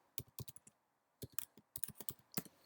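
Typing on a computer keyboard nearby, two quick bursts of light key clicks separated by a short pause, quiet and alone.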